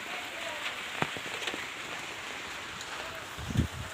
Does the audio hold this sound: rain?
yes